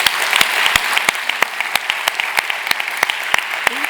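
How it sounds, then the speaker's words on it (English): Applause from a conference audience thanking the organizers of a gender-lens investing event, a dense steady patter of many hands, with sharper individual claps standing out regularly through the whole stretch. "I think we start with applause to the organizers"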